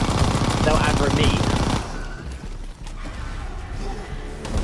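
Rapid video game gunfire from players shooting zombies in a World War zombies shooter, loud and dense for the first two seconds, then thinner scattered shots with voices talking over the action.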